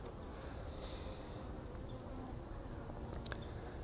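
Honey bees, nurse bees working a hive frame of uncapped larvae and fresh eggs, make a dense continuous buzz close by, with a few sharp faint clicks near the end.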